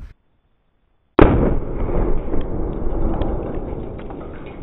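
A revolver fires at a Halloween pumpkin target outdoors: a single sharp, loud report bursts out after a moment of silence, then rings and rumbles away slowly, with no voices heard.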